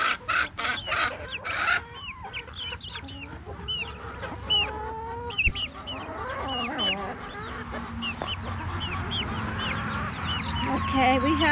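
Several chickens cluck and squawk close by in repeated short bursts, with a person talking among them and some rustling in the background.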